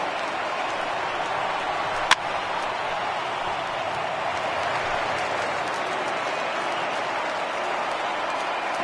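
A big stadium crowd of over 39,000 roars steadily in a PS4 baseball game, a dense, even wash of cheering with a single sharp crack near the start.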